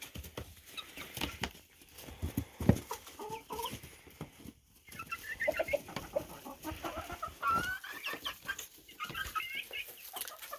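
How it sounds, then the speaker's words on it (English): Several chickens and hens cluck and murmur softly and continuously nearby, with scattered pecking and scratching sounds in the background. "the hens don't really care about the new chickens"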